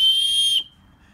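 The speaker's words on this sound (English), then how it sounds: "That's the fire starter. It's got a whistle in it." A whistle built into a survival fire starter gives one shrill, steady, loud blast for about half a second, then cuts off to near silence.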